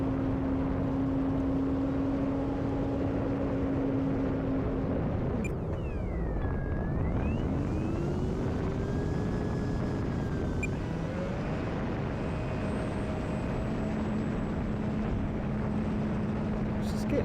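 Small UMX Turbo Timber Evo electric RC airplane in flight, heard from an onboard camera: constant buffeting wind rush over a thin whining motor tone that rises and falls as the throttle changes, steady and close throughout.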